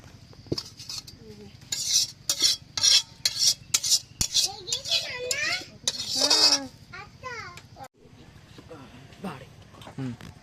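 Meat being stirred in a metal pan while braising for spicy kosha, with repeated scraping and clinking strokes in uneven bursts, fairly close, and a faint sizzle beneath. A person talks softly at times.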